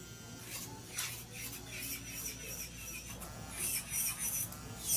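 Hand file rasping across acrylic nails to smooth them, a steady close scratchy rubbing with louder strokes toward the end, no talking.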